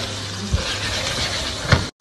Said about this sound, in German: Und das beides jetzt mit in die Pfanne und locker 2 Minuten mitbraten.